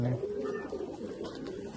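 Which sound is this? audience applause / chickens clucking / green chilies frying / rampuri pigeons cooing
rampuri pigeons cooing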